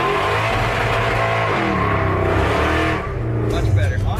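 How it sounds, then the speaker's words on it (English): A tuned-up car engine holds steady on the rev limiter with a loud, buzzing, stuttering drone and a brief dip near the end, while a voice can be heard over it. "On the rev limiter."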